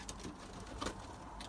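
Racing pigeons, a loft of show racers, coo softly in short murmuring bursts amid low background rustle, with one slightly louder call near the middle.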